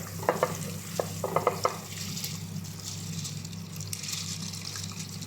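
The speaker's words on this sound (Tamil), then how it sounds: "இப்போ ரைஸை சேர்த்துக்கலாம்." Soaked basmati rice is tipped into boiling water for ghee rice, with a few soft clinks and scrapes near the start, then steady bubbling and light trickling throughout.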